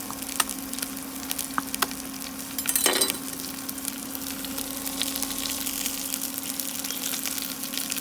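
Garlic cloves in their skins sizzling in a hot pan while cooking for a round courgette tarte tatin, a continuous close frying hiss with a brief louder crackle partway through.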